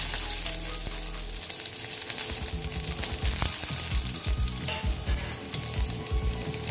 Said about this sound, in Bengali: রসুন কুচি দিয়ে আবার একটু সুন্দর করে এটা আমি রসুনটাকে ভেজে নেব।